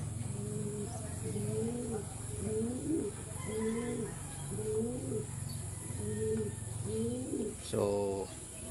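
Pigeons coo in a steady series of soft, repeated, rolling calls close to the microphone, with a brief rustle or flutter near the end.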